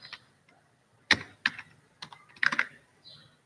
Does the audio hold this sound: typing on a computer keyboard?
yes